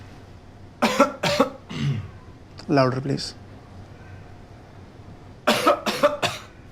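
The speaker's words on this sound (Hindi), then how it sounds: "खांसी करो।" A person coughs on command during a doctor's examination, a few harsh bursts near the start and another cluster near the end, with talking in between.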